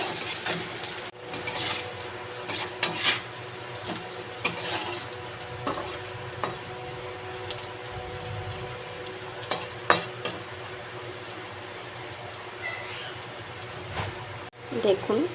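Onions browning in a pan with a little salt, a soft continuous sizzle close by with occasional spatula scrapes and light clinks, while someone talks over it now and then.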